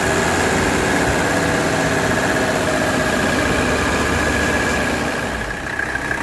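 A 1985 Mercedes 300SD diesel idles steadily and loudly up close, freshly valve-adjusted with new return hoses, its low rumbling clatter continuous with no voices.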